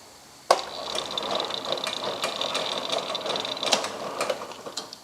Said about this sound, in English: engage the motor